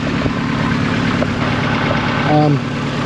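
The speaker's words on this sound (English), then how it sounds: "You can hear the high performance exhaust system." A car engine idles with a deep, throaty exhaust rumble, steady and close, with a brief higher tonal squeal near the end.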